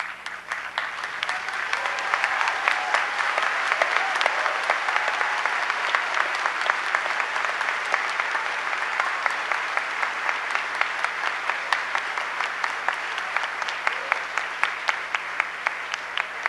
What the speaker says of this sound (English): give them a round of applause and thanks